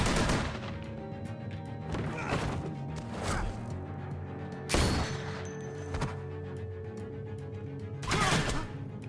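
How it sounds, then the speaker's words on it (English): Gunshots ring out in the video game The Walking Dead Telltale, loud separate blasts spaced a second or two apart, with sharp cracks and whooshing impacts between them. "Gunfire!"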